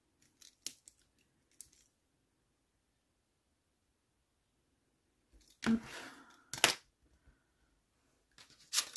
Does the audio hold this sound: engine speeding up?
no